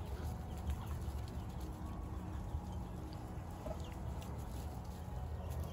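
A rooster clucking in a farmyard, soft repeated clucks heard at a distance under steady outdoor background noise.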